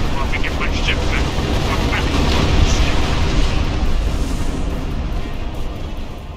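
Torpedo explosions rumble through a Star Trek Online space battle as a dense, continuous roar of booming blasts, with heavy low-end bursts rolling over one another for several seconds.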